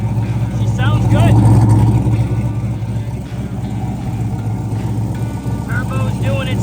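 A turbocharged 6.0 engine in a 1984 S10 truck runs steadily close by with a low droning rumble and a faint rising turbo whistle on top, a slight exhaust leak, while a person talks over it.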